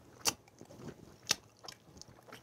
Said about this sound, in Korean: 야 일부러 쩝쩝대고 그러지.